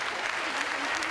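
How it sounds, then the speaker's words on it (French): A brief burst of crowd applause for the performers at a 50th-anniversary stage show in Toulon, dense and steady, moderately distant, with no voices over it. "Et je vous demande d'applaudir une dernière fois tous les artistes qui ont partagé ce plateau."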